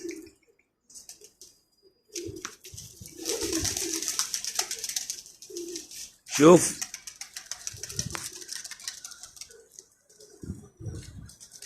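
Pigeons flying overhead, with soft cooing and light rustling in the background while people talk on and off; a loud, rising vocal burst cuts through near the middle.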